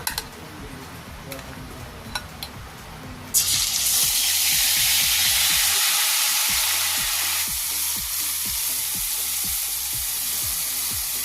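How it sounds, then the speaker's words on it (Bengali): Hilsa fish sliding into hot oil in a pan, starting with light clinks and handling, then bursting into a loud, steady sizzle that continues strongly to the end. "আস্তে আস্তে মাছগুলো আমি দিয়ে দেব"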